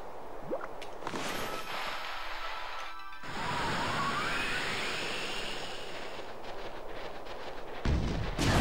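A cannon in Okami fires with a deep booming blast and a long roaring rumble, loud and filling the scene, followed by a sweeping whoosh and a second heavy thump near the end.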